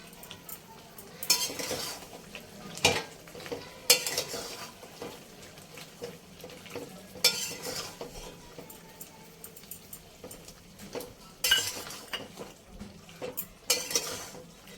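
Fried spices stirred into thick boiling jaggery for a sweet-sour raw mango pickle, soft bubbling under repeated clinks and scrapes of a spoon against the pot, moderately close and fairly quiet.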